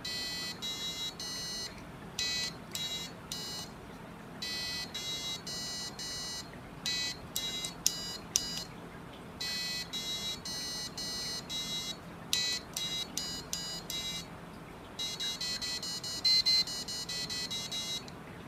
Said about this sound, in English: The buzzer isn't quite nearly as obnoxious as I thought it was going to be